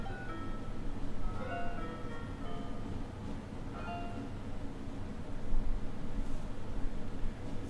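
A video-game minstrel plunking and pinging an old ballad clumsily on a thin, chiming instrument, a few halting note runs that sound like an ice cream truck tune over a steady background hiss, with no voices.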